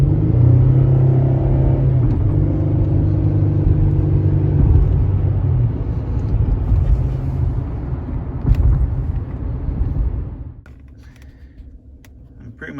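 A GM car with a 3.6L engine, being checked for a misfire after dealership service, drives along on a test drive with a steady low engine rumble and road noise. The engine eases off and quietens near the end.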